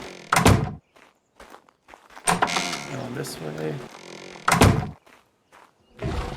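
Double doors in the video game ARK: Survival Evolved swing open and shut with heavy thunks, two sharp bursts several seconds apart, while someone talks in between.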